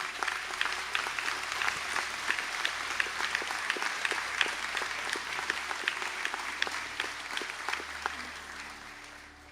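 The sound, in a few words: applause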